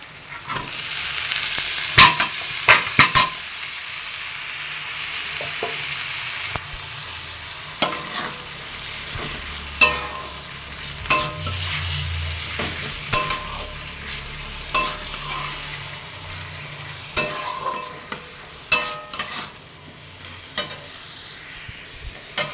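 Drumstick flowers sautéing in a pan, a continuous sizzle broken by repeated sharp scrapes and clacks of a spatula stirring, close and fairly loud with no voices.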